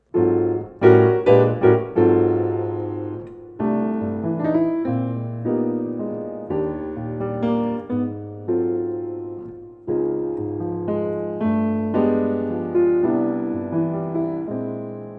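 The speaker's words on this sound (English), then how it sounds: "Just such a lovely sounding chord." Jazz piano playing a series of rich, sustained chords, each struck and left ringing before the next, at a relaxed pace with no other sounds.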